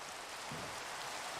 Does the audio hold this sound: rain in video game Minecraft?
yes